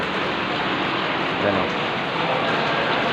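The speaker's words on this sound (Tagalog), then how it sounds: "wala di pa rin tumitigil ang ulan mula nung nagbuhos kami dito" Steady, dense rain falls and patters onto surfaces, a constant hiss with dripping mixed in, close and fairly loud.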